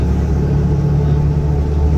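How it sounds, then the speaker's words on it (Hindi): Heavy road traffic in an industrial area, a steady loud rumble of engines and passing vehicles that fills the clip without pause. "सिग्नल भी बहुत है, बहुत ट्रैफिक।"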